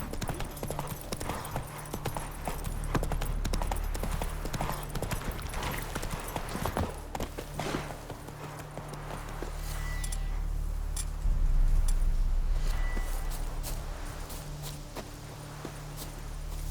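Hooves of the horse Roach clip-clop in a steady walking rhythm in The Witcher 3, fairly quiet and close, with a light ambient game backdrop and faint shifts in pace toward the end.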